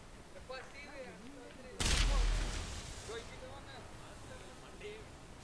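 A petrol pump blows up in a video game, a sudden loud blast with a rumbling tail about two seconds in, set against background game noise with some chirpy tonal sounds before and after.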